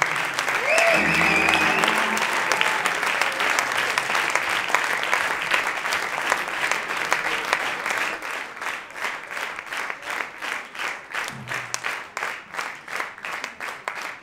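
Concert audience at a Miskolc jazz carnival applauds loudly and steadily, the dense clapping thinning into more distinct, rhythmic claps toward the end, with a brief voice heard over it near the start.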